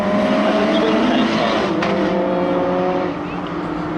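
A space-frame race car with an aero front, running a shakedown lap around Devil's Elbow, its engine a high buzzing whine that holds steady and then eases off, heard under a commentator's voice.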